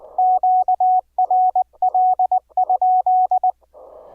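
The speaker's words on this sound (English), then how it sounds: "how you normally send Morse code to key your rig" Morse code tones beep in quick groups of short and long pulses, loud and clear, with brief gaps of static between the groups.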